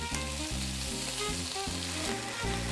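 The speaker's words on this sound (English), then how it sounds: "flip the pork over and lightly saute the other side" Pork slices sauté in a hot pan, giving a steady, close sizzle that carries on without a break, with tonal music playing underneath.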